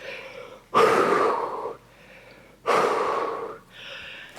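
A person breathes heavily after a calisthenics workout, taking two loud, drawn-out gasping breaths close up, followed by a softer third breath.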